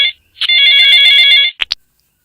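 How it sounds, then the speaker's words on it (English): Phone ringtone in the Need for Speed Heat racing game: a bright electronic melody of stacked tones plays steadily for about a second, then cuts off and gives way to two short, sharp chirps. "My phone ringing"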